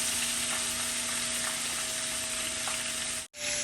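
Sawmill gravy cooks in a pan with a steady, close sizzle and frying crackle that runs unbroken for several seconds, then cuts out briefly near the end before resuming.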